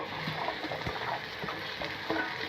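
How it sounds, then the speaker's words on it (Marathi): Sliced okra is stir-fried with spices in a pan, producing a quiet, steady sizzle broken by soft scraping stirs, with no voices. "परतल्यानंतर भेंडी त्यात टाकायची"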